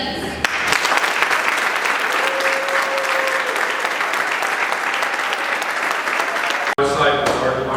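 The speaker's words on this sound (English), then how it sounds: "please join me in a round of applause for the newest Sergeant Audie Murphy Club inductees." A large audience at a military Sergeant Audie Murphy Club induction ceremony gives sustained, loud applause that holds steady for several seconds, then cuts off abruptly before a brief tail of scattered clapping.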